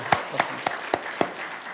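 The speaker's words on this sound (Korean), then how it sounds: "우리 잠시 일어나시면 큰 박수로 축복하고 환영하도록 하겠습니다" A church congregation claps to welcome a family at Sunday service; five or so distinct, evenly spaced claps ring out clearly against a quiet room.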